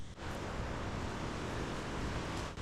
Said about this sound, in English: Here we have a waterfall.